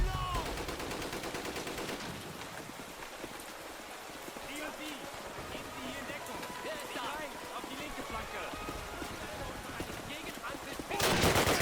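Continuous gunfire and machine-gun bursts in the Call of Duty: United Offensive video game, a steady crackling barrage with voices talking over it, swelling louder right at the end.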